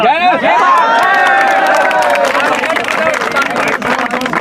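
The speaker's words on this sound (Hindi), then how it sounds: "ताली मत बजाओ भैया" A crowd at a village gathering after a girl's death from a 33,000-volt overhead line claps and cheers loudly, the burst fading into scattered claps and murmuring voices over a few seconds.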